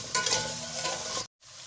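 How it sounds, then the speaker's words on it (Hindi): Chicken for Balochi chicken karahi is stirred and fried in a pan after a little water is added, giving a close, continuous scraping sizzle. The sound cuts out briefly, then resumes more quietly. "अच्छी तरह से मिक्स करके चिकन को अच्छी तरह से भूनते रहना है"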